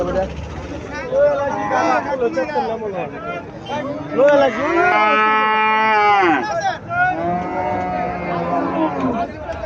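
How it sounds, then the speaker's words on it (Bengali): At a cattle market in Comilla, a cow lets out a drawn-out moo midway through, rising and falling while people keep talking loudly nearby. "এখানে একটা গাভী দেখা যাচ্ছে"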